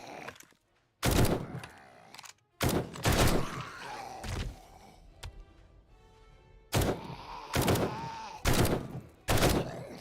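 Gunfire in the video game 7 Days To Die comes as loud, sharp shots in quick pairs and short bursts, separated by brief pauses, with faint game ambience between them.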